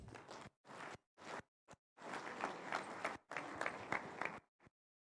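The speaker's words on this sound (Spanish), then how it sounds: "Les recibimos con fuertes aplausos" A church congregation at an evangelistic campaign applauds to welcome a tambourine ministry group, with bursts of clapping that cut in and out in chopped segments before stopping.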